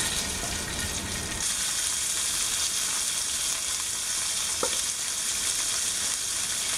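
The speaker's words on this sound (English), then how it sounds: "We have 2 tablespoons of extra virgin olive oil in our pan, and we're just going to heat this up over medium-high heat." Two tablespoons of extra virgin olive oil heating over medium-high heat in a skillet, a steady loud sizzle and crackle that continues without pause, with no voices.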